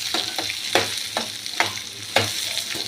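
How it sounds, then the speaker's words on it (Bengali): Rice fries in a pan for a green papaya curry, with soft sizzling under repeated sharp scrapes of a spatula stirring it every half second or so. "দিয়ে এটা দিয়ে আমি বেশ করে সুন্দর করে চালটা ভাজা ভাজা করবো আর কি"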